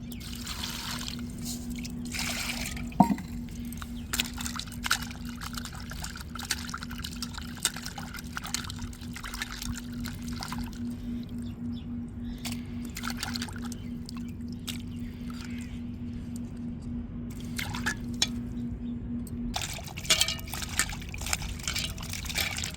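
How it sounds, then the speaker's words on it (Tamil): Dried salted fish is rinsed and swished in a vessel of water, with steady splashing, trickling and dripping that run continuously and fairly near under a low constant hum. "பச்சை தண்ணின்றாலும் சரி நல்லா கருவாட்டை நம்ம 4 முறை அலசி எடுத்துக்கிறலாம்"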